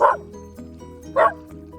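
A dog in a garden barks twice, loud and close, with sharp woofs about a second apart over a low background hum.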